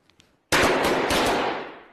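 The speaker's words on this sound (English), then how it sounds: "Let's pop some balloons." A cluster of balloons bursts at once in a loud, crackling volley of overlapping pops after a quiet start. The sound then trails off over about a second.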